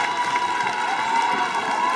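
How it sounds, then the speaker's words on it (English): A crowd in the gym at North Quincy High School cheers steadily through a girls basketball game, a continuous roar of voices and shouting with no clear break. "Crowd coming alive here at North Quincy High School."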